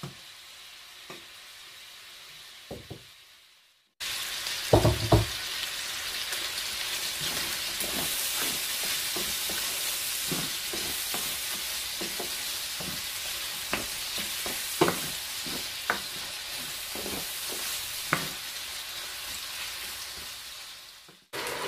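Chicken pieces frying in oil in a pan, a steady loud sizzle with occasional crackles and pops, continuing alone for most of the stretch after a quiet start.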